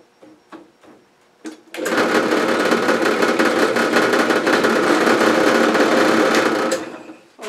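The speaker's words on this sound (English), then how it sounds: "I've got this thing mounted between centers on the lathe" A wood lathe spins a bowl blank mounted between centers in a workshop, starting after a few soft knocks into a loud, steady whirring motor hum that runs for about five seconds and then stops abruptly.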